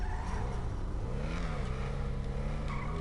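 A Porsche-like Prior sports car in GTA Online drones with a continuous, harsh engine note that rises and wavers in pitch while revving, steady and moderately loud throughout the few seconds.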